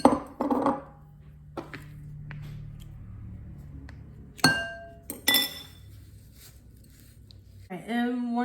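Butter mixed in a glass bowl, with a few sharp clinks and knocks of the utensil against the glass between quiet stretches, and a person talking briefly near the end.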